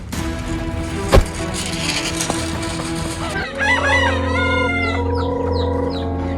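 Chickens cluck steadily nearby with a sharp knock early on, then overlapping crowing and clucking rise in the second half.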